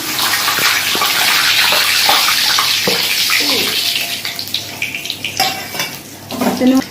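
Whole cumin, cinnamon, cardamom, cloves, dried red chillies and bay leaves hit hot oil in a pan for a Bengali chicken do pyaza, giving a loud continuous hiss and crackle that thins into scattered pops and clinks.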